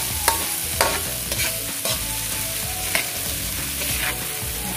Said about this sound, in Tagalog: isunod na natin na ilagay yung ating beef cubes